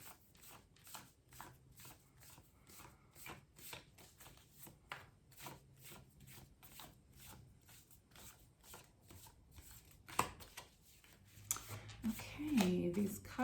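Tarot cards riffled and shuffled by hand in a quiet room, a steady run of soft rapid flicks lasting most of the time, with a couple of louder rustles and handling noises near the end.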